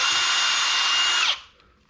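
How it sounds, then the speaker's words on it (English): A power drill whines loud and steady while pre-drilling holes in a stone crab trap, then spins down and stops abruptly near the end. "Just pre-drill these because that will crack if you don't."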